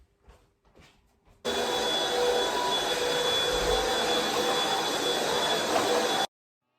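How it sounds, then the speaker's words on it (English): A household vacuum cleaner switches on after a few quiet knocks and runs with a steady loud whooshing drone for about five seconds before cutting off abruptly. "it was time for vacuuming"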